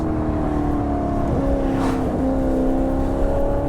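A Maserati GranTurismo S 4.7 engine drones with a steady, throaty tone, its pitch shifting slightly midway as it revs, continuous and close throughout, on a wet road.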